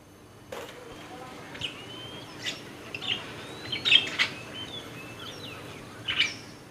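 Several birds chirping and calling outdoors, scattered short tweets and a few squawks popping out at irregular intervals over a quiet, steady background hiss.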